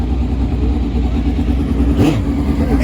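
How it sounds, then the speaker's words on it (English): An ultra-fast turbo drag bike at a drag strip, a loud, sustained engine roar that builds briefly near the end. "here comes another one of the ultra-fast turbo bikes"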